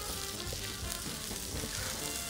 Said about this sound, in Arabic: رح نضيف الكمون لحتى يتحمصوا شوي صغيرة مع العدس، ورح أضيف الكاري بودرة